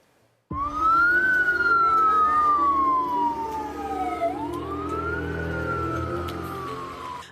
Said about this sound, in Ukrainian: Виття пожежних сирен тепер в Ізраїлі звичний звук.